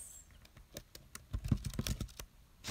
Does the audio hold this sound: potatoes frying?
no